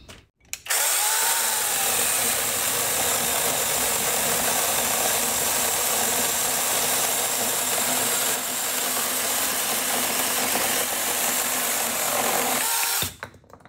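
Wosai brushless 20V battery mini chainsaw cutting through a 70 mm piece of dry, very hard jabuticaba wood, a loud close whine held continuously for about twelve seconds before stopping.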